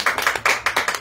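A few people clap in a quick, slightly uneven rhythm, close and fairly loud, for about a second.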